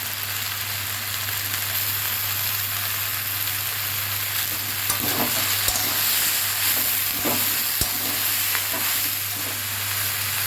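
Potatoes, onions and okra fry in a pan, giving a loud, steady, close sizzle with a few stirring scrapes and knocks partway through.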